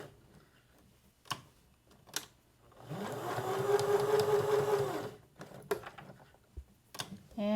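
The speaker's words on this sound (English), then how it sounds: "And go back over those beginning stitches to lock them in place." A sewing machine runs up close for a couple of seconds while stitching a hot pad pouch, framed by faint clicks and handling noises before and after the burst.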